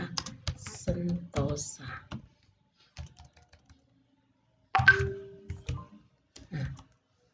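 Fingers typing on a computer keyboard while entering data into Microsoft Excel, with quick bursts of close key clicks between and beneath a person's speech and a short pause partway through.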